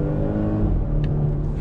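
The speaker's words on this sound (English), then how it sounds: "you actually get a nice burble from that exhaust" A Volvo S60 R-Design with a four-cylinder engine is floored and its automatic gearbox downshifts, giving a close, rising engine growl with an exhaust burble that holds steady through a short burst of acceleration.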